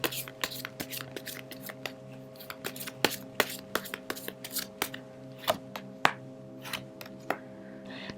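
Tarot cards being shuffled and handled for a reading, a quiet run of crisp, irregular card snaps and flicks over a faint steady hum.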